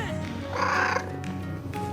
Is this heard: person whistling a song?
no